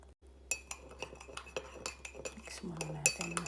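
A metal spoon clinks repeatedly against a cup while stirring morning coffee, a series of close, bright taps in irregular rhythm, with some low handling noise and a brief murmur beneath.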